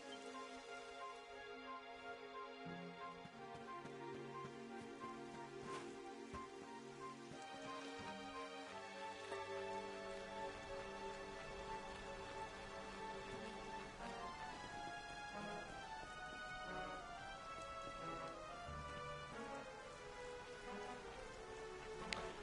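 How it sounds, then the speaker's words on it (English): Steady rain pours in the video game Dragon Quest XI, a continuous hiss layered over a bright orchestral music score that plays throughout. "It would have to go and start raining, wouldn't it?"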